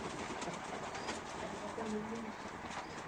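Soft pigeon coos murmur in the background of a roomy pigeon loft, with a person talking over them.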